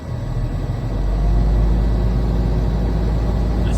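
A truck engine runs steadily to build air brake pressure, a loud, continuous low rumble that holds even throughout with no talk.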